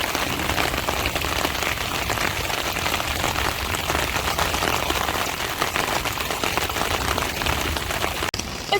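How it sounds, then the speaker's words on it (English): A heavy downpour drums on a camping tarp, with a dense, constant, close patter of rain from start to finish. "the downpour comes again."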